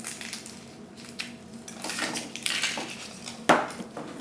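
Eggs are opened with close, soft clattering and rustling handling noises, ending in one sharp crack.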